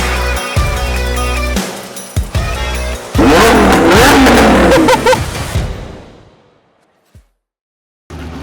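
Supercars drive up the strip at a busy UK supercar festival, loud engines revving and roaring past close by in bursts, then fading away into near silence before another car starts approaching.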